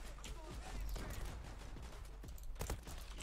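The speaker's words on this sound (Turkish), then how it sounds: "Ya çok seri atıyor. Çok seri ateş açıyor." Suppressed gunfire from the online shooter Zula: a rapid-firing silenced weapon sends out dense, quick, muffled shots alongside other gameplay noise, with louder bursts near the end.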